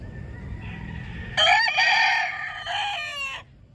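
Backyard fighting roosters crow loudly and close, a couple of overlapping cock-a-doodle-doo calls over two seconds, with soft hen clucking beforehand.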